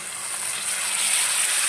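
Tomato going into hot oil already holding eggplant and silver prawns, giving a steady close sizzle and hiss that swells slightly toward the end, with no voices.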